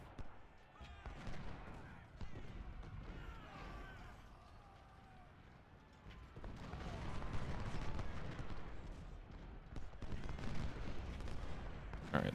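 Battle din from Ultimate General: Civil War, with artillery fire booming among dense, continuous gunfire and rumble, busy and layered throughout, swelling louder in the second half.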